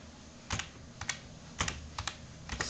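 Text is typed on a computer keyboard indoors: a few sparse, light key clicks and short bursts, close up and fairly quiet, with no talking.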